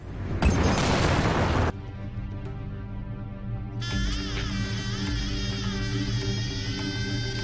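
Shooting and explosions in the space combat video game Strike Suit Zero: a loud booming blast opens, then gives way to a steady droning hum with layered electronic weapon tones.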